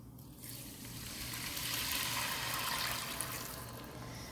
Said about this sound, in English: If you feel like you can add more color, at this point add 2 cups of water.